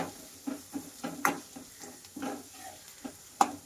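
Chopped onions and green chillies sizzle in a pan for a moong dal and bottle gourd dish while a spoon stirs them in a run of soft, regular scraping strokes, with a couple of sharper clinks against the pan.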